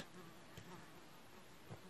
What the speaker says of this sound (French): Attention mademoiselle la mouche, j'ai ma tapette à mouche qui est pas loin.